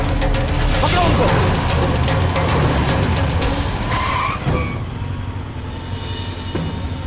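A car skids and squeals its tyres through a sharp turn in a chase scene from a Hindi-dubbed South Indian action film, loud and close over engine roar, with excited voices shouting and the sound easing off near the end.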